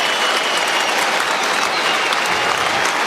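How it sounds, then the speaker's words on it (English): Sustained crowd applause for the players at a Carlton versus Sydney AFL football match, a dense, steady roar of clapping holding evenly loud throughout with no talk over it. "A big round of applause for these players."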